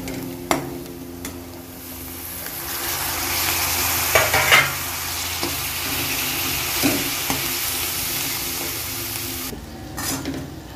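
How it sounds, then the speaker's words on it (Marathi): Boiled chickpeas sautéed with spices and red chili powder in a pan, a steady sizzle with intermittent scraping and clinking of the stirring spoon against the metal, close and alone. "आपण हे पूर्ण सगळं हरभरे परतून घ्यायचे छान"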